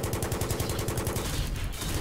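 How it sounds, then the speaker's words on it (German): An AH-1Z attack helicopter's cannon fires in a Battlefield 3 match, a rapid, continuous burst of heavy automatic shots over a dense, loud rumbling engine background. "Diese Kanone macht so einen Spaß"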